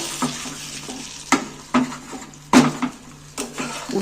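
Egg frying in a pan is stirred with a utensil, giving several sharp scraping knocks against the pan over a soft, steady sizzle, close and fairly loud.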